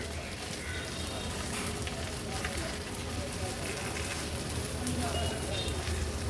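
Goat brain fries in a pan with a spicy masala, giving a steady, close sizzle and crackle that runs unbroken throughout.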